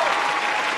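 A burst of steady, dense applause from a television talent show audience for a child singer, loud and continuous throughout the short moment with no pauses.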